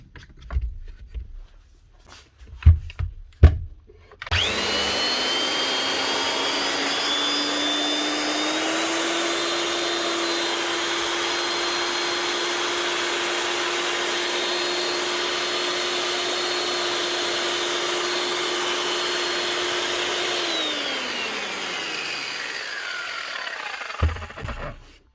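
A repaired old red Makita 9609B disc grinder starts up and runs steadily at high speed with a loud whine for about fifteen seconds, then winds down; a few knocks come before it starts.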